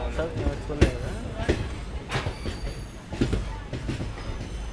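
Ratnachal superfast express train rolling into Visakhapatnam Junction, with steady rumbling wheels, sharp clanking bursts at intervals and faint squealing, heard close from aboard while people talk over the noise.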